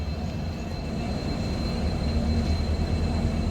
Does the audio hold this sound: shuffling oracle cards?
no